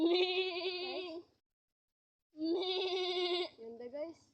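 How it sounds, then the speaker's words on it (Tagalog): A goat bleats twice up close outdoors, two long wavering calls split by a brief silence, with a shorter bleat trailing off at the end. "May kambing dito guys."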